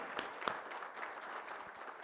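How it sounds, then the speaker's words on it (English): Crowd at a pet industry conference opening session gives sponsors a round of applause, an even, continuous patter of many hands, soft and somewhat distant, with no voices over it. "let's give them a round of applause"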